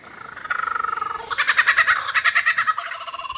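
A bird mimicking a kookaburra call gives close, rapid, rhythmic cackling pulses that start with a short run, then rise into a louder, longer laughing sequence, with no voices.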